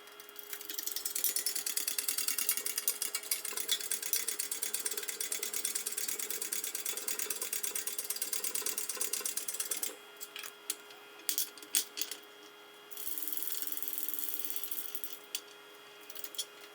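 Ratchet wrench clicking steadily and rapidly while bolting parts onto the frame of a Mack R686ST truck during restoration, close and continuous for about ten seconds, then breaking into shorter bursts of clicks.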